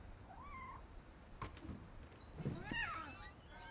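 Soft cat meows from the video game What Remains of Edith Finch, a few brief rising and falling calls spread out at low volume over a faint background hum, with a couple of light clicks.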